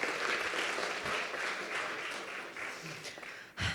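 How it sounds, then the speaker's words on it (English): A startup showcase audience applauds in a hall, a thick, continuous roar of clapping that holds strong for nearly four seconds before briefly dipping and swelling again. "round of applause"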